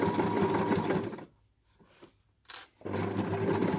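A sewing machine stitches a straight seam where fleece meets fabric on a quilted scissor case, running in loud, steady bursts near the mic with a short pause in the middle before whirring on again.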